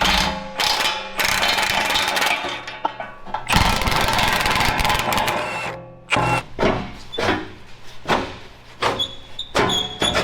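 Mechanical ratcheting and clanking from work to unbolt a bumper on an off-road wrecker truck, loud and close, in busy bursts with short pauses, without talk.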